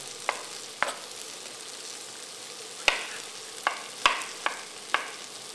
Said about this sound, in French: Alors je rajoute mes champignons pour les faire tomber également avec ce mélange.